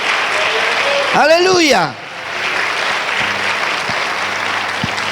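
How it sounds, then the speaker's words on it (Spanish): Church congregation applauding at a Spanish-language fasting prayer service, a loud burst of clapping under a shouted exclamation that fades quickly, followed by quieter room tone with a few faint thumps. "Dale un aplauso a las mujeres, al Señor, por los hombres que han levantado la mano en este día."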